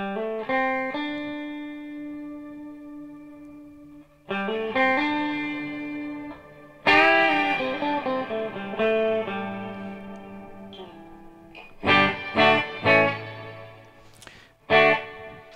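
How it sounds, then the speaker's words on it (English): Guitar notes and chords ring through a Walrus Audio Descent reverb pedal, shifting from plain reverb at heel-down to shimmer at toe-down. The tones swell and decay in long, echoing tails, separated by pauses and sharp new attacks. "in the heel down position I've just got the reverb, and in the toe down position I've got the shimmer on"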